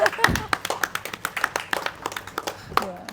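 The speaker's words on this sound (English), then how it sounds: "And maybe a round of applause for that." Scattered hand clapping from a panel discussion audience, sparse and uneven taps with a voice speaking over the start.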